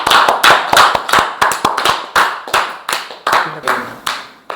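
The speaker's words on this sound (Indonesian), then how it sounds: "Tepuk tangan dulu." A classroom claps in a lively rhythmic pattern during a simulated Islamic religious education lesson, sharp loud group claps in quick repeated bursts, with a voice briefly heard.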